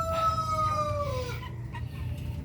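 Native chickens cluck and call close by in a short burst of farmyard sound over a low background hum.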